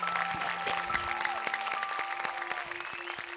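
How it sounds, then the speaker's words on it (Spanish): An audience applauds at a televised style competition show, sustained clapping throughout with tonal music and a brief voice mixed in underneath. "Un fuerte aplauso."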